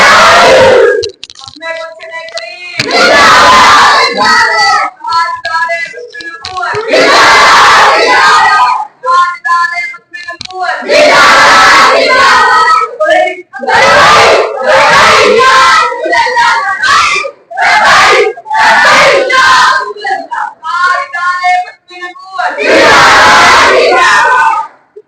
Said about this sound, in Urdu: آپ ایک زوردار نعرے کا جواب دیجیے۔